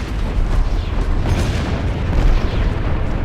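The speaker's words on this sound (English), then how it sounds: "just finish him off with the plasma cannon" Heavy booming plasma cannon blasts in the space combat game Strike Suit Zero rumble continuously, a dense explosive barrage with deep low-end thuds and no speech.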